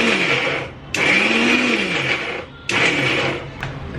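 An electric mixer grinder runs loud and close while grinding onion in a home kitchen, its whirring motor stopping and restarting in several short bursts.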